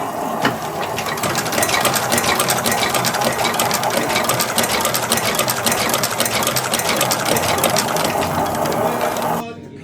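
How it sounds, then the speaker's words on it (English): A boot stitching machine punches holes in leather with an awl and pulls thread through with its needle, running as a fast, steady mechanical clatter of rapid repeated strokes, loud and continuous, then stopping abruptly near the end. "it has an awl that makes a hole in the leather first before the needle goes through the hole and picks up the thread"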